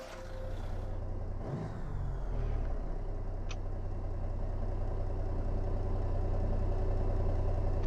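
Peterbilt 352 truck with a Cummins 444 diesel engine in American Truck Simulator, a deep, steady idling rumble that builds slightly and holds, with a brief air-brake hiss near the start.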